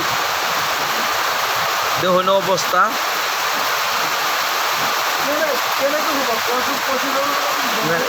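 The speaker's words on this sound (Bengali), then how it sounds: "আমাদের গ্রামে এমন বৃষ্টি এমন বৃষ্টি যে হাওয়া বাতাসে ছাড়ছে" Heavy rain driven by wind pours down over a village, a dense steady hiss with brief speech cutting in near the start.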